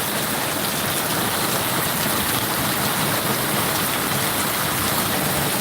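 Heavy rain with big drops pours down steadily during a storm with strong wind and a power outage, a dense, constant hiss of water striking surfaces close by, unbroken for the whole stretch with no voices.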